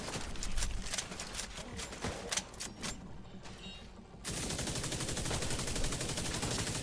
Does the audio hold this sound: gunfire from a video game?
yes